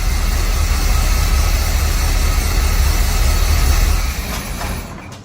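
A 1975 Chevy C3 Corvette engine idling after sitting for years, a loud, close, steady low rumble that holds evenly, then drops in level and fades over the last second.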